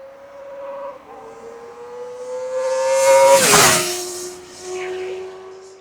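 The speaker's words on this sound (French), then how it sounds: "c'est bien le bruit de cette magnifique Ninja ZX4 RR" A Kawasaki Ninja ZX-4RR with an Akrapovic exhaust and quickshifter revs upward in a rising whine, then snaps through a quick shift with a burst of rasp before settling back into a steady drone.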